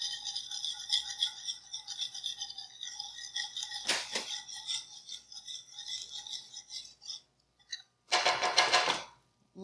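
A whisk beating parmesan cheese sauce smooth in a pan, heard as close, rapid metallic rattling and scraping strokes that go on in bursts, with a brief pause and a louder flurry near the end.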